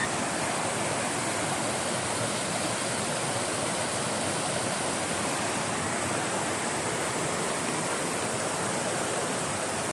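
Strong floodwater in a stream rushes past in a loud, continuous roar, a steady broadband wash of flowing water with no pauses and no voices.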